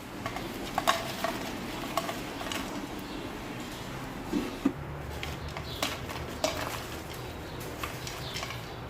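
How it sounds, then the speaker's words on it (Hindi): Freshly fried crispy potato and egg fries rustle and clatter in a metal strainer, with repeated light crunchy shakes and scrapes over a steady low background, fairly close and without speech. "तो इनकी आवाज़ भी मैं आपको सुनाती हूँ कि कितने क्रिस्पी बने हैं।"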